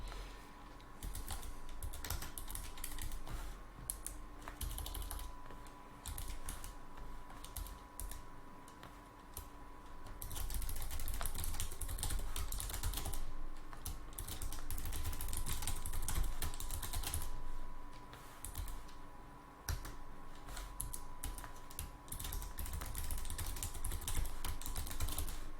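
Someone types a password on a computer keyboard, the keys clicking in quick irregular bursts with short pauses, close and moderately faint against a quiet background.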